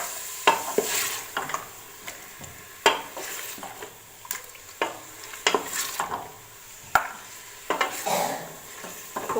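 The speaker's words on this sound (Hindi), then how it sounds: "अब इसमें मैं डाल दूँगी अदरक लहसुन का पेस्ट। इसमें भी इसको फ्राई कर लूँगी" Ginger-garlic paste frying with camel meat in a pot for korma, a low sizzle broken by repeated sharp spoon scrapes and knocks against the metal pot at an irregular rhythm, with no voices.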